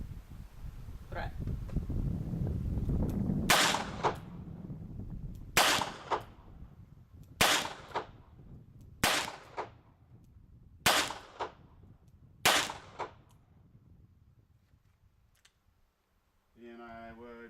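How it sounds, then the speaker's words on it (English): A handgun fires a string of rounds at a target during a CCW qualification course at a Tulare County range. Six sharp, evenly spaced reports ring out about two seconds apart after a stretch of low rumbling background noise. "on the command, fire all rounds in the gun, center of the target."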